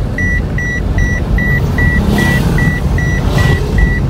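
A car maneuvering into a parking spot near a wedding venue, with a steady series of about ten evenly spaced reversing beeps sounding clearly over a low engine rumble and outdoor background noise.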